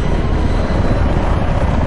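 A helicopter in the video game Battlefield 3, a loud, steady low rotor and engine roar that fills the whole moment, with no talking over it.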